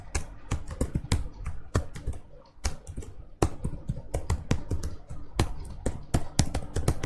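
Quick bursts of clicky computer-keyboard typing, with irregular runs of sharp keystrokes and brief pauses, recorded close and clear with no talking.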